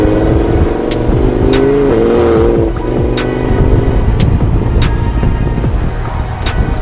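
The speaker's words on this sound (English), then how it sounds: "Audi R8 Spider with 2 twin turbos attached to the back of it." An Audi R8 Spider sports car engine with twin turbochargers roars loudly up close, revving hard and shifting, with a brief tire squeal under the engine noise.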